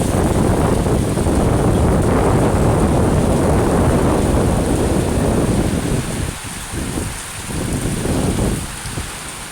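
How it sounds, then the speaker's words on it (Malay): A wind and rain storm lashes Aceh during flash flooding: a loud, steady roar of heavy rain and gusting wind that eases slightly near the end, with no voices. "Nah, ni dengar suara angin."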